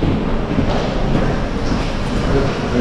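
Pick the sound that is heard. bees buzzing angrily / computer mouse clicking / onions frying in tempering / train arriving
train arriving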